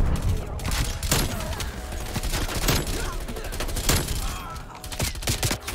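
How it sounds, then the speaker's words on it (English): Heavy gunfire from a strafe run in Call of Duty Black Ops Cold War, with dense overlapping bursts and explosive cracks rolling continuously for several seconds under game sounds. "Is that a strafe run?"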